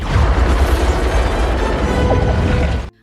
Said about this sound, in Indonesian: Lalu menara dihancurkan oleh helikopter Mose.